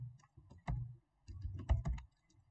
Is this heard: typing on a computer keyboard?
yes